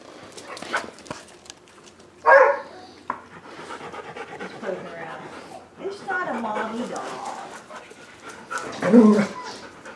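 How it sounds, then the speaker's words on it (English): A dog whimpers and pants at close range in a quiet indoor setting, with a few short yelps and whiny sounds scattered between soft breathing, and faint human voices now and then. "Stop whining."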